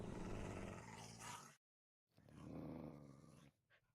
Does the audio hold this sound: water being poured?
no